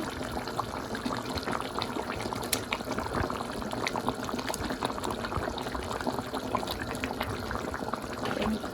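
Tomatoes go into a simmering Bengali fish curry with flat beans and potatoes, a steady bubbling and liquid sizzle running continuously at close range, with faint scattered clicks and no talking.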